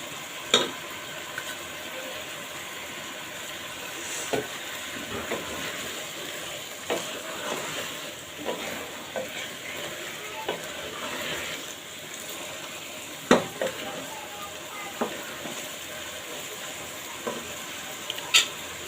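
Minced garlic and sliced onion stir-fry in a pan for Chinese-style vegetables, with a steady sizzle and scattered spoon clicks running on and on with no talk.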